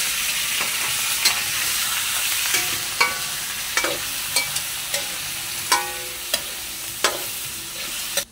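Chicken pieces frying in a pan for Filipino tinola, sizzling steadily after onions were sautéed, with repeated clanks of a spoon stirring roughly every half second to second, close and fairly loud, no talking.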